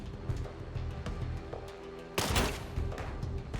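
A single loud gunshot bursts out in SteamWorld Heist II, with a brief noisy blast that fades over steady game music and ticking sounds.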